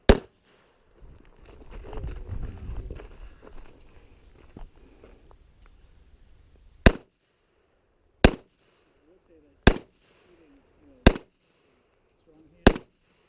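Five sharp pistol shots crack at an IDPA shooting match, evenly spaced about a second and a half apart, loud and close, after a stretch of muffled handling and shuffling noise.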